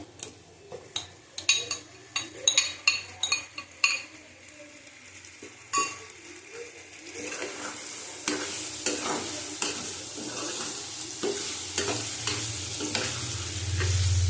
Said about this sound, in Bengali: ভালো করে কষিয়ে নেবো। আবার দিয়ে দেবো চিকেনটা দিয়ে দিলাম।